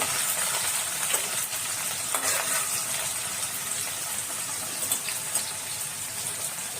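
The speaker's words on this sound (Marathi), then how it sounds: "कांदा टाकते बारीक टाकलेला तो पण छान भाजला जातो" Finely chopped onion fries in oil in a pan for a pea, potato and cauliflower curry, giving a steady close hiss with light crackle throughout.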